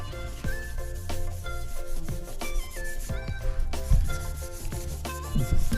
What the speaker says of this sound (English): I'm going to scuff up everything that's red on here.